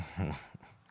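A Brittany puppy whimpers outdoors, one short whiny yelp followed by a faint breathy whine, heard at some distance.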